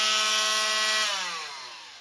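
An oscillating multi-tool fitted with a dull saw blade for wood hums with a steady buzzing tone, then winds down and fades over two seconds, close up and alone.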